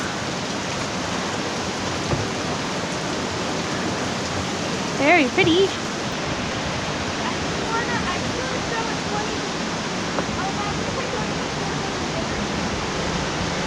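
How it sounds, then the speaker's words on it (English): A steady, broad rush of a waterfall at Ausable Chasm, New York, fills the whole stretch, loud and constant, with a brief voice speaking partway through. "Hey, look! Oh, waterfall."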